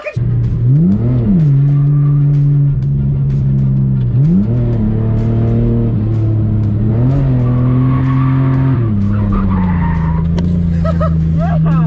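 A car lapping a race track on a first track outing, its loud engine climbing and dropping in pitch through repeated rev swings with brief tyre squeal, close and continuous for the whole stretch.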